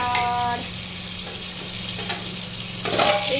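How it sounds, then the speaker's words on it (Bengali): Eggplant slices fry in a pan in a home kitchen, giving a steady close sizzle that runs through the whole stretch, with a faint clink near the end. "এইটার মধ্যে একটু বেগুন ভাজা চাপিয়েছি।"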